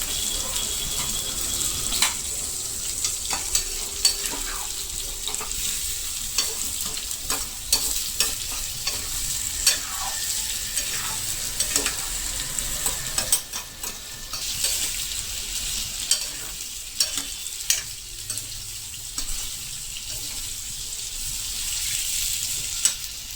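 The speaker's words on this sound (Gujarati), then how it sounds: "આ રીતે ચમચા વડે હલાવી લેવાના જેથી કરીને તળિયે ટુકડા બેસી ન જાય" Raw banana pieces fry in a pan while a spoon stirs them repeatedly, steady sizzling beneath frequent scrapes and light clinks, with a bit of running water partway through.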